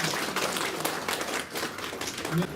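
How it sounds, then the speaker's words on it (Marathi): An audience claps at an eye camp anniversary event, a short burst of crowd applause with some voices mixed in. "तर या सगळ्या दोघांसाठी आपण आधी टाळ्या वाजवूया।"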